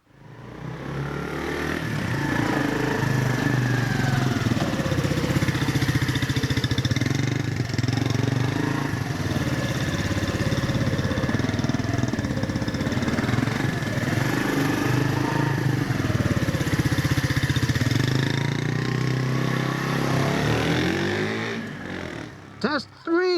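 A Bullit Bluroc 125 motorcycle engine hums close and continuous while riding a figure of eight, its pitch gently rising and falling with throttle changes as it turns.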